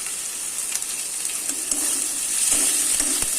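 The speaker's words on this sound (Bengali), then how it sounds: "পেঁয়াজ কুচি, কাঁচা লঙ্কা। এবার এটাকে নাড়তে থাকবো।" Chopped onion and green chili fry in hot oil with garlic while being stirred, a steady close sizzle with light scraping strokes of the spatula.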